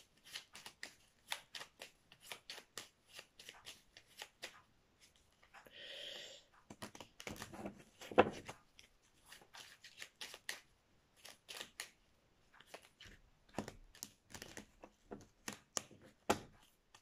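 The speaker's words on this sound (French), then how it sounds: "Alors, je mets les cartes." Tarot-style playing cards are handled and laid out on a table, giving a run of crisp, close card snaps and slides in irregular bursts with short pauses, mostly alone and fairly quiet.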